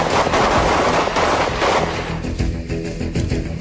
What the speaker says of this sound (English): all have submachine guns like the AR-15 that can fire fully automatic or semi-automatic rounds